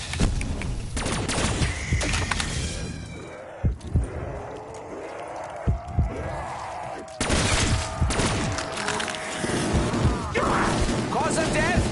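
Explosions and heavy gunfire in the Call of Duty zombies map Revelation, loud dense bursts and crashes filling most of the stretch, with a brief lull midway before the barrage resumes, while a voice speaks over it.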